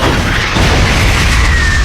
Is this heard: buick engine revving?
no